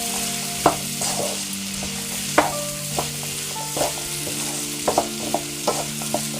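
Vegetable upma frying in a pan, a steady close sizzle broken by repeated scraping knocks of a spoon stirring through the mixture, with no voices.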